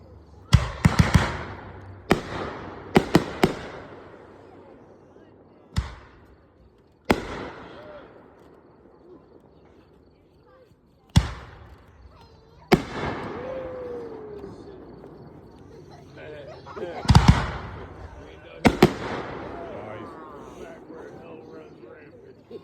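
Memorial Day fireworks explode in sharp, loud bangs at irregular intervals, some in quick clusters, each trailing off in a crackling decay, with voices faintly audible between bursts.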